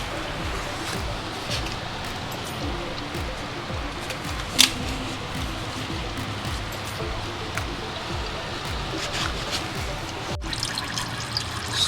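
Engine oil from a 2016+ sixth-generation Camaro V8 (LT1/LT4) trickles out of the drain into a pan, a faint continuous dribble under a steady background wash with a few small clicks.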